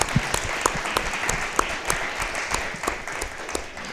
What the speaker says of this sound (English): how about a round of applause for Shouyi?